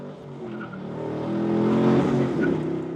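A 2010 Chevrolet Camaro 2SS V8 engine accelerating, a close, loud rising drone that swells and holds over a few seconds with a hint of tire noise.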